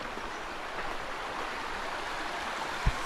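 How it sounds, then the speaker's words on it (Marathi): Water rushes steadily over rocks in a stream near Dhekale dam, a close, continuous broadband hiss with no break, one brief low thump near the end. "सळसळ वाहणारं पाणी"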